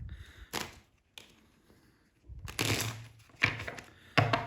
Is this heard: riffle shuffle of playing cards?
yes